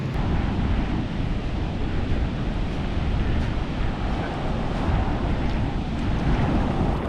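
Surf and a strong tide at a beach in Bali, a loud, continuous rumbling roar of waves mixed with gusty wind buffeting the microphone, with no clear breaks.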